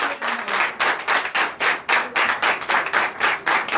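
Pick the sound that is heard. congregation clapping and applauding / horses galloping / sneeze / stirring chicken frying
congregation clapping and applauding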